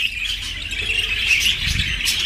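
Budgerigar chicks in the nest give a continuous, fairly close chorus of thin, high begging chirps and squeaks, steady throughout the short stretch with no voices.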